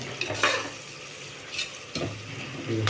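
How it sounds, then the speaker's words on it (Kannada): Onions frying with cinnamon, cloves and bay leaf in a biryani pot, a steady close sizzle broken by a few stirring scrapes of a spoon against the pan. "ಆನಿಯನ್ಗೆ ಚಕ್ಕೆ ಲವಂಗ, ಪಲಾವ್ ಎಲೆ, ಆನಿಯನ್ ಎಲ್ಲ ಹಾಕಿ ಫ್ರೈ ಮಾಡ್ತಾ ಇದ್ದಾರೆ."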